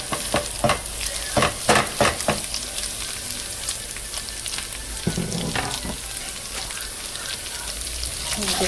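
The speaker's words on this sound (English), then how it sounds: "I'm just gonna stir." Cooked ground turkey and chopped vegetables are stirred in a hot pan with a little olive oil, a steady sizzle broken by scraping, clattering strokes of a utensil in the first few seconds.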